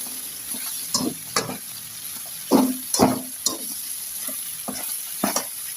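A spoon stirs chicken curry with garlic and onion in a frying pan, giving repeated scraping strokes over a constant sizzle, close and moderately loud, with no talking.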